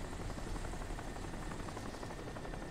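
A helicopter in the video game Crysis holds a steady, loud rotor thrum with a fast rhythmic chop and a droning engine underneath, with no speech over it.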